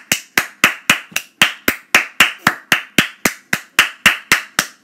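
Hands clap steadily about four times per second, close and loud, sharp even slaps continuing without pause or talk.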